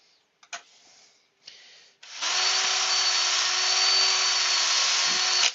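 A power drill with a 2.5mm bit, drilling wood, starts after a few short rubbing sounds, then whines steadily and loudly at close range for several seconds.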